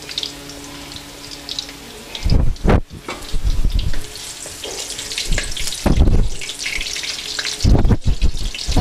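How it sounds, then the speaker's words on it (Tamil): Green chilies fry in hot oil in a clay pot for a vanjiram fish curry, giving a steady hissing sizzle with several louder spitting bursts and crackles close by. No one speaks. "நல்லா பச்சை மிளகா எண்ணெயில் ஃப்ரை ஆகணும்."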